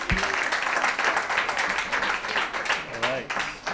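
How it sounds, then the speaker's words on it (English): An audience at a San Francisco startup showcase applauds a team winning an award, a dense, even clapping from a sizable crowd, with brief voices breaking through in the background. "Let's give a round of applause."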